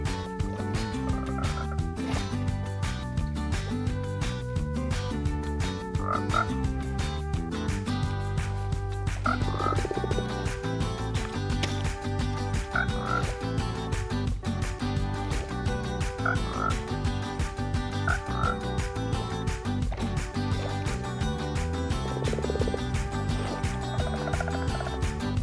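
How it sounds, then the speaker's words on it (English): Frogs in the Minecraft video game croak at intervals, short throaty calls standing out over steady, dense background music, with no talking. "Frogs will follow the player when they hold slime in either hand."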